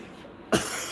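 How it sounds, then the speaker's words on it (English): A single short cough bursts out close to the microphone over a low background hum. "I need a cough."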